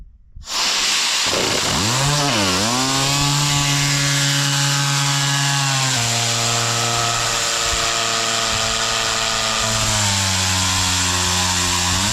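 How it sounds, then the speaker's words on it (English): A blower tool mounted on a rod slides up and down a combine's air filter during soybean harvest, roaring with a loud, constant whine and hiss that shifts pitch as it moves, close and continuous with no speech. "Just set this on top of the filter, run it up and down, and it cleans it out."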